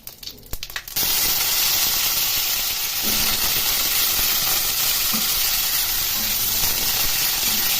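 Dried red chilies, bay leaf and cumin seeds hit hot oil with a sudden loud, steady sizzle that holds dense and unbroken for several seconds after a brief quieter start.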